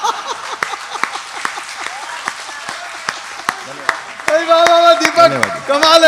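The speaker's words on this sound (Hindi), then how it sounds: "जम के तालियां बजानी है।" Audience applause at a Hindi comic poetry gathering (hasya kavi sammelan), a steady wash of many hands clapping with sharp individual claps standing out, then a voice speaking over the clapping near the end.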